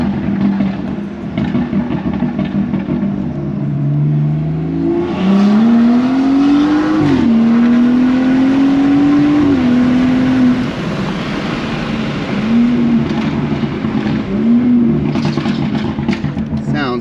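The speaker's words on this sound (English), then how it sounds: "That M Performance exhaust is sweet." A BMW F30 340i's M Performance sports exhaust rumbles close by as the engine revs up and settles in Sport Plus mode, with rising tones and a few short blips, under occasional talk.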